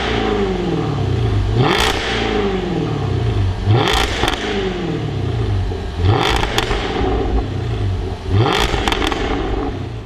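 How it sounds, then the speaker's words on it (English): A Jaguar F-Type V8 R AWD coupe with stock catalytic converters revs its exhaust in four loud, evenly spaced bursts. Each rise and fall ends in sharp crackling pops. "let's hear what the exhaust sounds like with the stock cats fitted"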